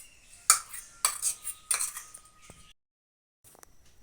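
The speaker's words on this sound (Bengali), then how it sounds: "এখন আমি এটাকে থালায় ঢেলে নেব।" Soaked, spiced semolina dough is tipped from a bowl onto a plate: three sharp metal clinks and scrapes of a spoon against the dish, each trailing off, then a short silence and faint rustling.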